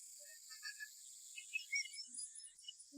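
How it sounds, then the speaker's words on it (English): Cicadas chirp in a faint, distant high-pitched drone with scattered brief trills and bird-like chirps over an otherwise quiet background, with no talking. "The only sound is the chirping of cicadas."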